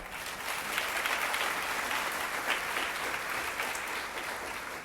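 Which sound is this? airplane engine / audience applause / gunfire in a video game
audience applause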